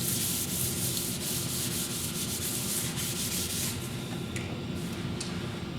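Sandpaper rubs steadily across the cast tabletop of a SawStop table saw, a continuous close scratchy hiss with slight strokes of rhythm and no voices.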